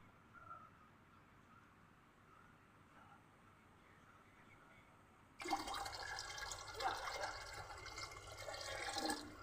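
Cow urine pours into a Jeevamrut mixture of water and dung, a sudden splashing, trickling stream of liquid that starts midway and runs steadily to the end, close by after a quiet stretch.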